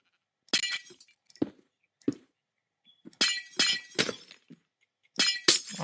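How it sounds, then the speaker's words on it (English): Blocky glass panes breaking in Minecraft, a series of sharp crashing shatters in irregular clusters with short silences between them, loud and close with no voice over them. "All this glass breaking."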